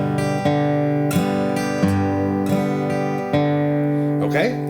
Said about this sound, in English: we are trying to alternate between those two strings while we strum